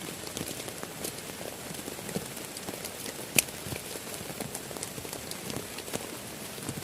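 Steady rain patters over a campsite beside an old hut, an even hiss of drops scattered with sharper taps and one brief louder knock, and no voices.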